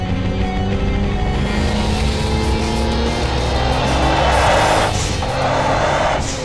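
A Rossion Q1 sports car engine roars loudly and continuously at close range, revving up through rising gears with a strained, hard-driven tone.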